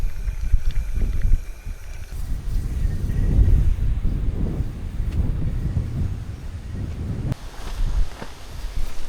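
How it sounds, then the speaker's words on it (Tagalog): Strong gusts buffet the microphone in low, rumbling bursts at a riverside campsite, rising and falling irregularly with a few faint knocks and rustles of tarps underneath. "Lakas ng hangin."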